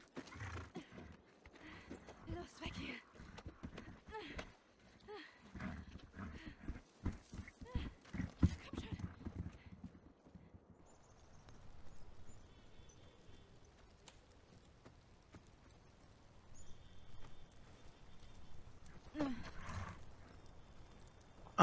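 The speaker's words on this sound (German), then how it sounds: "Armes Pferd." A horse in The Last of Us, with dense clopping hooves and movement during the first half, then quieter game ambience and a short burst of activity near the end.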